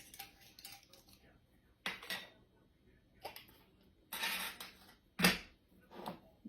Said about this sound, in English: I'm just going to get all these open